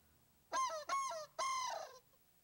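A human voice imitates a swan, giving three loud, nasal, honking calls close up. The first two are short and the last is longer, with no other talk.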